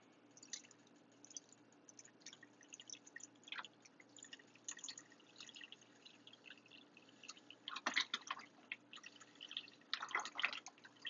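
Soup ingredients for a homemade beef vegetable soup are poured into a pot, giving soft wet drips and splashes that grow louder near the end, with no talking.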